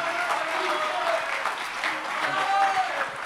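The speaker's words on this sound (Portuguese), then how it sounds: "Salva de palmas aí para o nosso querido Rafael" Audience at a PHP community summit applauding a speaker, dense sustained clapping from a crowd with voices and cheers mixed in throughout.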